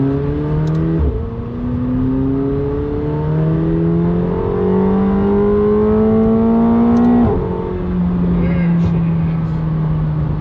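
A 2024 McLaren 750S accelerates hard at full power, its engine note climbing steadily through the gears with a brief dip at each shift, loud and close from inside the cabin.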